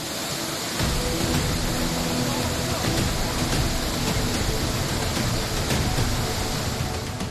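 Heavy rain pours steadily during flooding, a dense, loud, unbroken hiss of falling water that holds evenly throughout with no voices.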